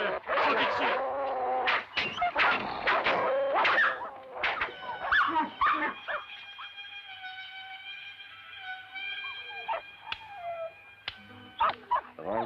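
Dogs in a French-language Western film whimper and yelp with high, wavering whines and short barks, mixed with people talking at the start and scattered sharp noises.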